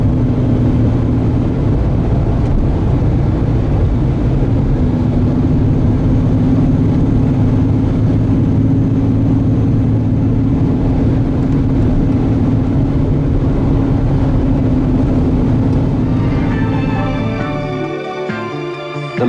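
A 1975 Ford Granada GL on the move, a loud steady low engine drone with road rumble that holds constant and then drops away near the end.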